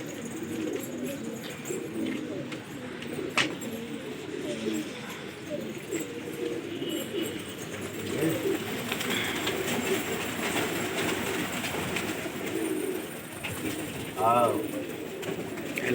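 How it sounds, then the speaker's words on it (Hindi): Pigeons flush out and coo in a noisy outdoor setting, soft cooing and fluttering under a constant rumble, with a few brief sharp sounds and a voice faintly in the background. "ये निकल के आ रहे हैं कबूतर"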